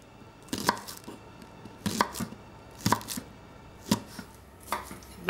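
A knife chops a small bunch of spring onions on a board for soba noodles with sesame seeds. About five sharp, crisp chops land roughly a second apart against a quiet kitchen background, with no talking.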